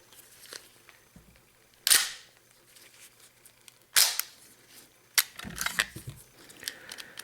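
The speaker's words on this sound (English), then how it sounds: "doesn't fire with the magazine removed, fires with the magazine installed" Dry-fire function check on a Ruger Mark III pistol: three sharp metallic clicks spaced a couple of seconds apart, heard up close, with quiet mechanical handling noises in between.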